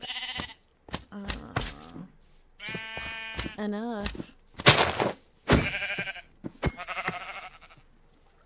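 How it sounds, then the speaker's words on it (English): Sheep bleating in the Minecraft video game, several clear wavering bleats repeated over about eight seconds with a person talking between and over them. "I see a sheep."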